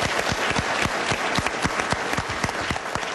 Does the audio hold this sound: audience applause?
yes